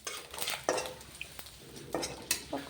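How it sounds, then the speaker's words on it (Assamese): Whole cumin seeds dropped into a little hot oil for a potato and egg curry, giving a few bright clinking stirs of a utensil against the pan over a quiet, faint crackle. "এয়া অলপ তেলত জিৰা দিয়া হ'ল"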